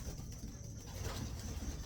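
A golden checkered racing pigeon, held in a handler's hands, gives faint, low cooing against a noisy, rumbling outdoor background.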